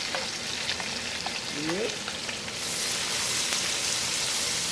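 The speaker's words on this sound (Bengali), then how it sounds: "এবার এটা পেঁয়াজটা ভুনা করবো" Onions and green chillies fry in oil with a bay leaf, a steady close sizzle that grows louder partway through, with a brief spoken word early on.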